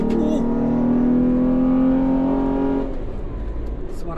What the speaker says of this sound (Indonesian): Asik banget suara V6 pakai knalpot racing.